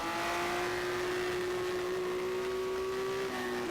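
Race car engine in the rFactor racing sim held at high revs, a steady sustained whine that drops slightly near the end, moderately quiet throughout.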